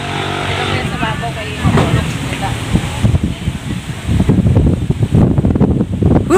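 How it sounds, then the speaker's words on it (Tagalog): Strong wind on the upper slopes of a mountain roars and buffets against the microphone in continuous gusts, with a person talking through it. "Lakas ng simoy ng hangin."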